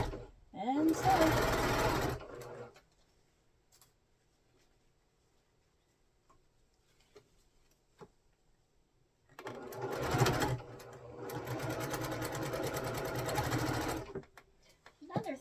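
A sewing machine stitches cotton quilt pieces in two separate bursts of rapid mechanical clatter, close and clear, with quiet handling sounds in between.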